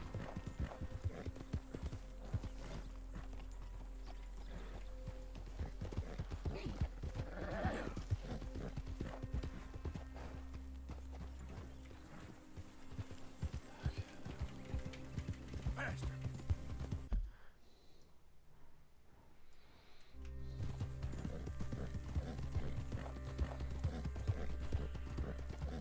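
Horse hooves clip-clop steadily in a Western video game, a rhythmic trotting pattern with game ambience and a short near-silent gap partway through.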